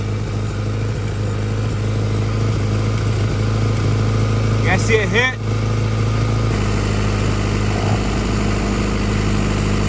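A Honda Accord with a cracked exhaust idles with a steady, close engine drone throughout, while a person talks over it.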